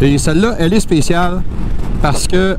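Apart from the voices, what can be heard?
No everyday noises stand out.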